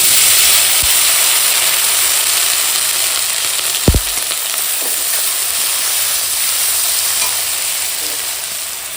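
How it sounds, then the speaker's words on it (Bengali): Chopped vegetables, tomato and potato, fry in hot oil with panch phoron, making a continuous loud sizzle with a brief utensil knock near the middle and no talking. "এখন একটু সব মানে ভালো করে ভেজে নেব"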